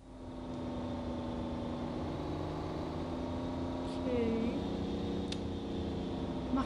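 A Toyota Supra RZ 1998 in the City Car Driving game, heard from outside, rolls slowly into town with a steady, droning engine hum, with faint tonal shifts as it runs on.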